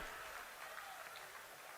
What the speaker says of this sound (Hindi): जोरदार तालियों के साथ स्वागत राष्ट्र को समर्पित इस महापरियोजना के लिए